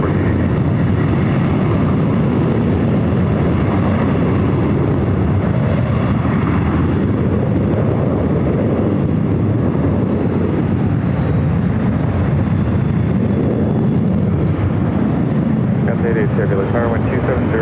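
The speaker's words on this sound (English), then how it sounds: "WestJet heading to Vancouver in the 737-800" A WestJet Boeing 737-800 airliner at LAX airport gives a loud, continuous jet roar that swells and eases, with voices talking faintly underneath.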